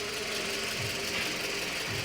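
A 2007-2011 Toyota Camry 2.4 four-cylinder engine idles after replacement, a steady close hum with a faint rhythmic ticking throughout.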